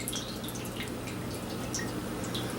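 Homebrewed all-grain beer runs through a racking cane into a keg, making a constant, even liquid flow with faint dripping, close and alone.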